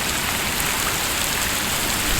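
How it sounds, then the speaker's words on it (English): Heavy flash-flood rain pours down while driving, a dense, constant hiss of drops drumming on surfaces, loud and unbroken for the whole brief stretch with no talk. "it was flash flood rain"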